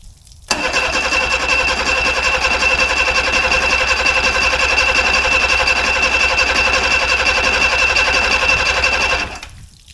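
A boat engine cranks over without firing, its man overboard kill switch pulled, a loud close starter whir with a steady rhythmic chug lasting about nine seconds before it stops abruptly.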